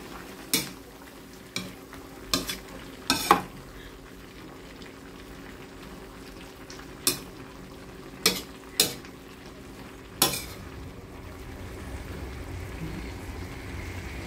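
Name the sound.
stirring pinakbet vegetables in the pan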